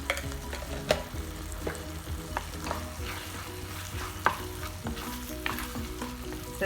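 Tomato, peas, chilli powder and coriander powder sautéing in a pan, a steady sizzle and fry broken by repeated scrapes and clinks of a spoon stirring, with no voices.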